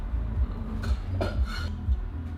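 A large metal cooking pan is handled in a kitchen, giving a few close clanks and scrapes over a low background hum.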